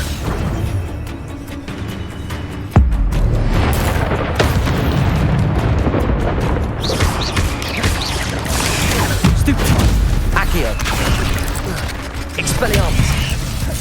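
Incendio fire spells are cast during Hogwarts Legacy combat: loud, sustained roaring blasts with a sharp booming impact early on, over a thick, busy wash of game effects that continues to the end.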